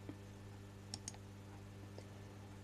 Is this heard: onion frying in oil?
no